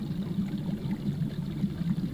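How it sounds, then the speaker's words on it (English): A fish tank in a horror game gives a steady low bubbling, trickling water sound, continuous and close with no speech. "What is this noise? The fish tank?"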